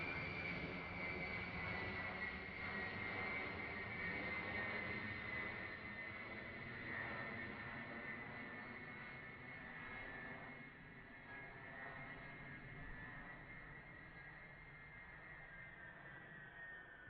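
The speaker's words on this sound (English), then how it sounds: "They've been having B-52s fly around for quite some time now." A B-52 bomber flies overhead, a sustained roaring jet engine drone with a whining high tone that slowly lowers and fades a little as it passes, distant but steady, with no voices.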